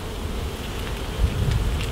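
Honeybees buzz around an open hive during an inspection in the UK, a dense, steady hum from many insects close by, alone without talk.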